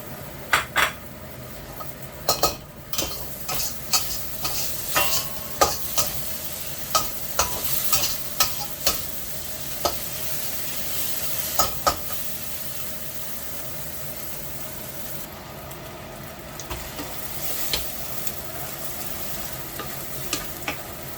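Garlic sizzles in hot oil in a pan while fried rice is stir-fried, with frequent sharp scrapes and clanks of a spatula against the pan over a steady frying hiss.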